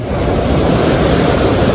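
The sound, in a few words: swollen Kali Gandaki river rushing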